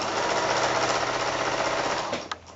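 A sewing machine stitches quilt binding in a fast, continuous run of close, rapid needle chatter that slows and stops near the end, followed by a brief click.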